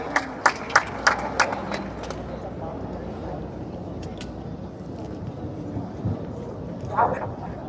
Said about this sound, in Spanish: un aplauso para Miss Nicaragua